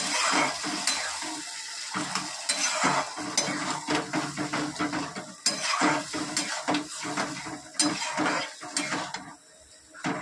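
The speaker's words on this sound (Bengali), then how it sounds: "এবার সমস্ত মশলা দিয়ে সুন্দর করে কষিয়ে নেব।" Boiled dal is sautéed with spices in a pan, a steady run of close spoon scrapes and clinks against metal over a constant sizzle, with no talking.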